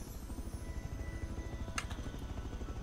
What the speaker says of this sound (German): Da, wo der Heli hinschießt, wo die Flammen sind.